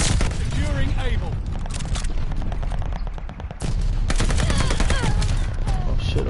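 A big gun fires in a video game, loud rapid booming shots in dense bursts over a constant battle din, with someone talking throughout.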